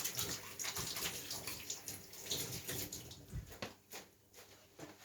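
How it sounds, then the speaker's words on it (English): Water runs from a tap while hands are washed in a home kitchen, a steady close wash with small splashes and a few clunks, with no talking. "I'm just going to wash my hands quickly"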